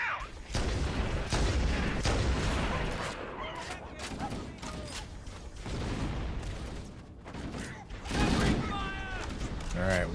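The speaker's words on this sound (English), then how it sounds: "Freaking guns have us pinned down." Sustained gunfire and explosions from a sci-fi shooter battle in Halo: Combat Evolved Anniversary, dense overlapping bursts filling the clip with dips between volleys and faint electronic whines near the end.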